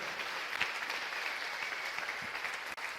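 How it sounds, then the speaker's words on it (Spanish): A church congregation claps in praise at a worship service, steady, dense applause filling the space throughout, ending with one sharp clap near the close. "Denle un aplauso al Señor, denle un aplauso fuerte."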